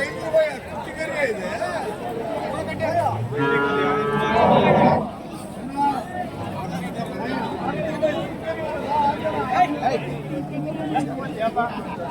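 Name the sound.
Jersey cow with calf mooing at cattle market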